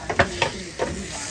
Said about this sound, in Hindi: लग गया कद्दू को तड़का